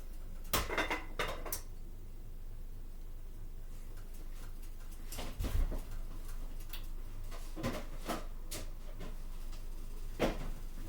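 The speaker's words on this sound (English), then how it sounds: "I'm gonna clean these dishes right quick." Dishes, pots and pans clatter in a home kitchen while a meal cooks, with scattered sharp clinks and knocks of cutlery and cookware against a low running background, no one speaking.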